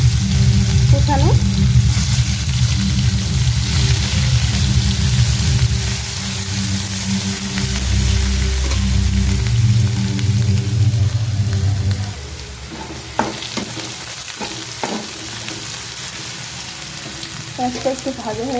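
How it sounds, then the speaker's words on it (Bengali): Chopped onions fry in hot oil in a wok for a spicy live-fish curry, giving a loud, steady sizzle with a constant low rumble underneath that eases off midway and turns fainter and more crackly toward the end. "তো কড়াইটা ওই তেলের মধ্যে পেঁয়াজ দিয়ে দিয়েছি"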